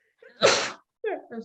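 A single sharp sneeze close by, followed by a brief pause and a couple of short murmured sounds.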